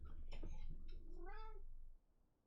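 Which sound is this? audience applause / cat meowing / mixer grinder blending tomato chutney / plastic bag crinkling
cat meowing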